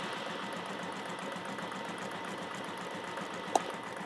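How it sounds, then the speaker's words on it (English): An embroidery machine sews a satin stitch on an appliqué design, a steady fast mechanical whir with a rapid needle rhythm, fairly quiet and continuous, with one faint brief click near the end. "Once the machine finishes stitching that top scoop layer, it will then complete the outline with the satin stitch."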